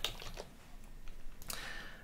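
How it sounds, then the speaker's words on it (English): Computer keyboard typing on an Arch-based Linux desktop while searching for Minecraft: a short run of soft, close key clicks, followed by a brighter burst of keystrokes near the end, with no talk. "Just start typing Minecraft and it starts looking."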